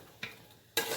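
A spoon stirs chicken pishpash, a rice and chicken dish, in a pot: one short scrape, a quiet pause, then a longer, louder burst of stirring at close range.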